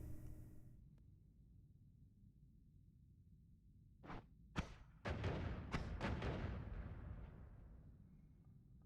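In the video game Noita, after a quiet stretch, a few sharp booms go off, followed by a burst of rumbling blasts that slowly fade away.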